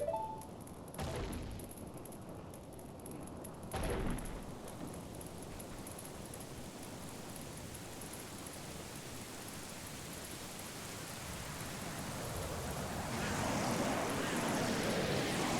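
Fire burns in the video game Ocarina of Time, a continuous broad roaring rush that holds steady and then swells louder toward the end, with a few sharp bursts early on.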